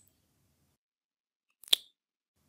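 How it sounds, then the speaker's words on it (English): A single short, wet lip smack, close and isolated in quiet, with no talking around it. "A lip smack sounds like this."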